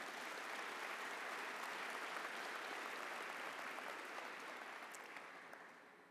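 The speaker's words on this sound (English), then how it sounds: "Please give our platform party a round of applause." Audience applause for the platform party at a doctoral graduation ceremony, a soft, distant, steady wash of many hands clapping that tapers off toward the end.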